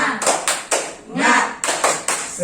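A group claps the tepuk semangat rhythm, sharp hand claps in a patterned sequence with short gaps, loud and close, while voices call out between the claps.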